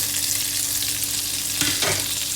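Spices sizzling in a pan with green chillies over a low flame for dry masala potatoes, a steady close hiss with a brief flurry of stirring scrapes near the end, no speech.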